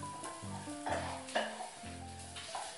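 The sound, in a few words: onions sizzling in a sauce being heated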